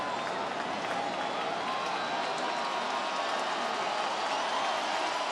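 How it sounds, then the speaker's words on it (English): Baseball stadium crowd at Dodger Stadium during an NLDS Game 5 against the Nationals, a broad steady roar of cheering and applause rising from the stands, continuous and distant-sounding, filling the whole stretch. "The crowd gets going."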